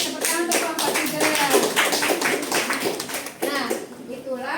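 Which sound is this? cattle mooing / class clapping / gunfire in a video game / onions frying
class clapping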